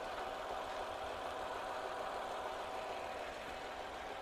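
A 2016 Datsun Redigo petrol car engine idles quietly with a smooth, even hum that stays constant and unbroken, no voices over it.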